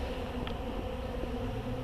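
Honey bees in an opened hive with burr comb drone in a dense, steady buzz, close and continuous, with no talk over it.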